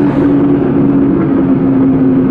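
A Ferrari with an open exhaust idles close by without revving, putting out a loud, continuous, deep rumble with a steady droning tone and no clear separate pops.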